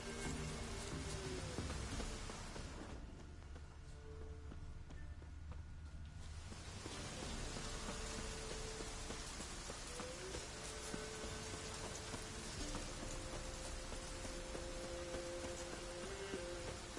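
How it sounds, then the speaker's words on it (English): Steady rain in The Witcher 3: Wild Hunt, a continuous soft hiss that runs quietly through the whole stretch, briefly thinning for a few seconds before returning evenly. "Always raining."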